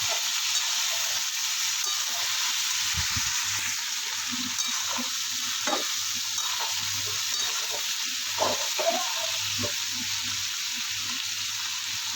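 Fish pieces sizzle in a pan alongside browned potatoes, a steady crackling fry with occasional stirring knocks and scrapes, close and moderately loud with no talk.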